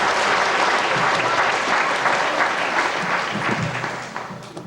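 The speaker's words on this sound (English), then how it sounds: "big round of applause for Paul." An audience at a 1992 grade 4 school spelling bee claps for a contestant, a dense burst of applause that holds steady and then tapers off near the end.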